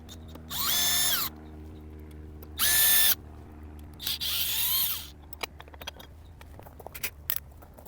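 A power drill fitted with a Torx T25 security bit whirs in three short, loud bursts with quiet pauses between them, while faint clicks and small knocks follow afterward.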